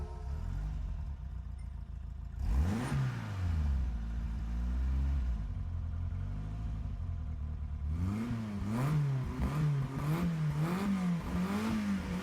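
Renault 8 Gordini racing game engine revving hard: a short rising rev burst, then a sustained drone, then a series of rapid up-and-down revs, loud and close with no talk.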